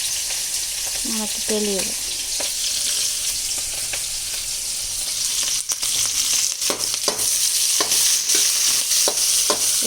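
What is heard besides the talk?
snack ingredients frying in oil, stirred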